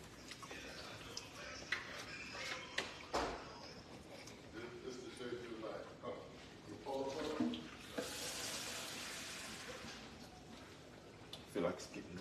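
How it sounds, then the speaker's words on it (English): Starchy pasta water is poured into a thickening chicken Marsala sauce with basil in a pan, a faint, steady trickle and splash amid quiet kitchen background noise. "So I'm just gonna add a little more pasta water in here"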